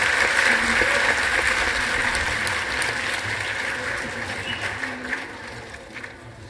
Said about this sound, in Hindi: एक बार जोरदार तालियों से हम अभिवादन करते हैं आपका